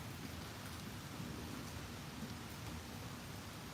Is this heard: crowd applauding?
no